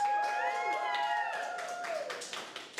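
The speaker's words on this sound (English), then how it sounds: "Give Sarah another round of applause." Audience applause for a speaker named Sarah at an event, a few seconds of scattered clapping with voices chattering and calling over it, fairly quiet and fading slightly.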